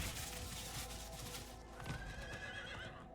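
A horse in the Diablo 4 video game lets out a loud, close whinny that trails off, with a few hoof clip-clops on rough ground and no talking.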